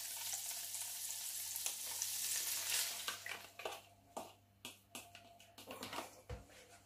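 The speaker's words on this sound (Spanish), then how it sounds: "Y no se puede parar de remover en todo el rato." Eggs mixed with cream stirred in a pan over low heat, a soft sizzle giving way to a run of quick, irregular scraping strokes of the utensil against the pan, close and fairly quiet.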